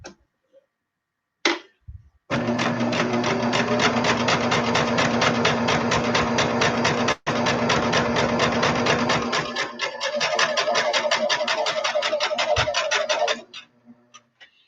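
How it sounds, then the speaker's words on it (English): A domestic sewing machine stitching along a marked line on a quilt block, a loud, fast, even mechanical rattle running for about eleven seconds after a brief start, with one momentary pause partway through, then stopping. "we're going to turn it over, and we're going to stitch on the line"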